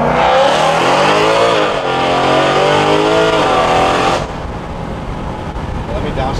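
A BMW E92 M3 V8 revs hard and loud, climbing in pitch through rising sweeps before cutting off abruptly to a lower rumble; voices talk over the engine.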